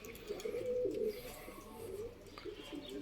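Low, soft pigeon cooing, a couple of murmuring coos close by in a quiet space.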